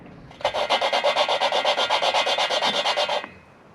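Valve being hand-lapped into a VW engine head with a suction cup tool and grinding compound, a rapid run of about twenty rhythmic gritty back-and-forth rubs, close and even, then stopping.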